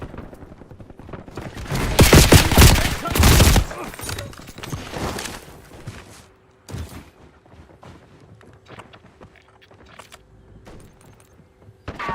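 Bursts of automatic gunfire ring out in Call of Duty Warzone, a loud volley up close followed by scattered quieter shots and mechanical clicks.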